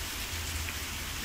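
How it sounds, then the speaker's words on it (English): Steady rain falls outdoors, a dense, even hiss of drops spattering on surfaces, close and continuous with no voices. "let's go and enjoy the rain"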